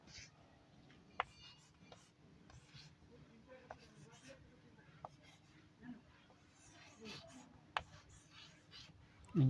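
A pen writing on paper, soft scratchy strokes with scattered small taps, close and quiet, while a person speaks softly.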